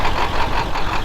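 A forklift engine runs steadily just after starting, a loud continuous mechanical drone with a rough, knocking idle texture filling the whole moment.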